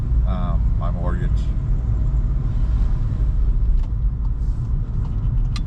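Steady low road rumble and engine drone from a car cruising at night, continuous and close, with a voice talking briefly over it.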